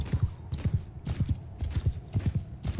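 Cavalry horses gallop in the Mount and Blade Bannerlord video game, a rapid repeating clip-clop of hooves in quick rhythmic clusters, close and steady throughout with no voices.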